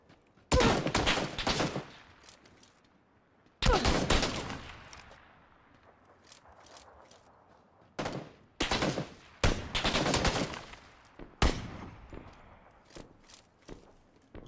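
Gunfire in the battle-royale game PUBG: several bursts of rapid automatic shots at fairly close range, with quiet stretches of a few seconds between them and faint footsteps in the gaps.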